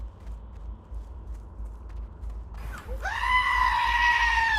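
A goat scream used as a stream alert sound: a loud, drawn-out bleating shriek erupts after a brief rustle and carries on over a faint low hum.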